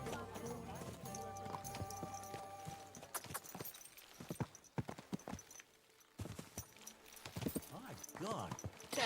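Rhythmic hoof clip-clops of a horse on a hard surface in the video game Kingdom Come: Deliverance II, with the game soundtrack and scattered voices underneath, pausing briefly midway.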